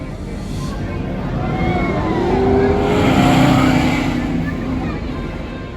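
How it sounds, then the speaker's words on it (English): Radiator Springs Racers, a high-speed car racing ride at California Adventure, with a ride vehicle's engine whooshing and revving as it swells past nearby, its pitch sweeping up and down, under a voice talking. "Radiator Springs Racers gives you a good mix of a dark ride and a high-speed car racing ride"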